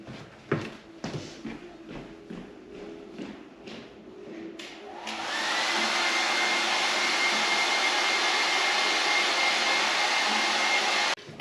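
A hair dryer switches on partway through and blows steadily at close range over wet paint on a canvas, a loud continuous whoosh following a few soft handling knocks.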